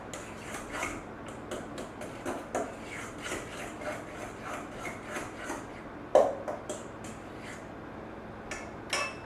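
Peanut butter cookie dough is worked by hand in a bowl, heard as soft, irregular scraping and knocking strokes repeating at a quiet, close level.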